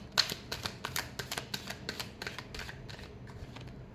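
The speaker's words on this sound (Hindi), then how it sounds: "last shuffle" Tarot cards are shuffled close by, giving a quick series of crisp, papery riffling snaps at a steady rhythm that fade slightly toward the end, with no talking over them.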